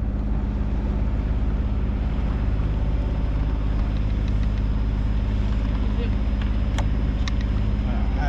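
A sailboat motoring under engine power off the French Atlantic coast near Oléron, a steady, loud, low droning hum with constant vibration and light wind on the microphone, a voice talking over it.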